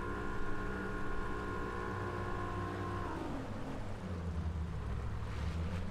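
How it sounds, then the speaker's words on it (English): Speedboat motor in the Fishing Sim World video game, a steady drone over water that stays loud and continuous, pitch shifting downward around the middle. "get in the old speedboat"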